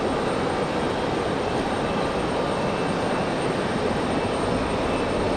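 An F-15 fighter jet at Raleigh-Durham International gives a dense, unbroken jet roar that stays loud and steady for a few seconds, with no voices.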